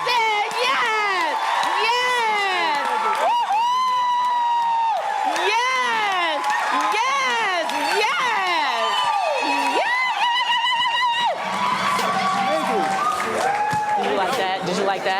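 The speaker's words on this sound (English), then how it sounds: "A round of applause for the amazing, awesome, powerful Black men in the building." A crowd at a relationships town hall claps and cheers for the Black men in the room, with applause, whoops and excited shouting overlapping loud, animated voices throughout.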